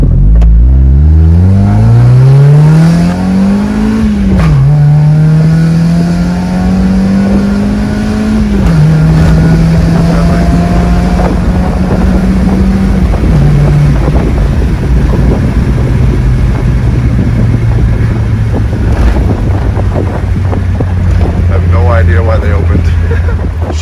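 A project Mazda Miata is driven hard, its engine loud and close, revving up steadily through several gear changes with brief dips in pitch before climbing again under constant road and wind roar.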